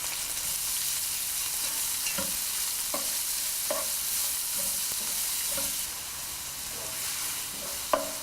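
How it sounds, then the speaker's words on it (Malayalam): Sliced onions and salt frying in hot oil in a pan for fish masala, a steady close sizzle with a spoon stirring and scraping against the pan at intervals. "വന്ന എണ്ണ ഒഴിച്ച് ചൂടായ ശേഷം നമ്മൾ കട്ട് ചെയ്ത് വെച്ചിരിക്കുന്ന സവോളയും ആവശ്യത്തിന് ഉപ്പും ചേർത്ത് മിക്സ് ചെയ്യുക."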